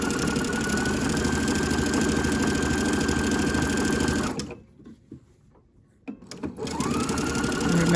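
A sewing machine stitching elastic across an underwear gusset runs in a fast, close, steady whirring hum, stops for about two seconds, then starts up again and carries on to the end.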